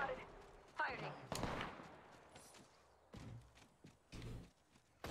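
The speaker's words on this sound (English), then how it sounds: "Somebody's... Still shooting? Sniping. Yeah, somebody's sniping." Gunfire from sniping in the Apex Legends video game cracks several times at a distance, in sharp scattered bursts amid other game noise and people talking.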